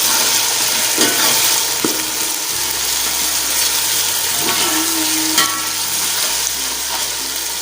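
Onions with ginger-garlic paste frying in a pan, a loud, dense close-up sizzle with occasional stirring scrapes and clinks, steady throughout.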